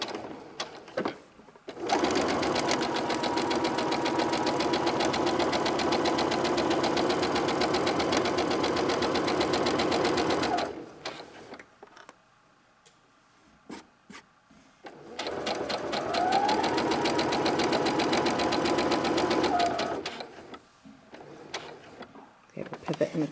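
A sewing machine stitches a simple tote bag in two long steady runs, a loud, close whirring drone with a short pause between them, ending in a few lighter handling sounds.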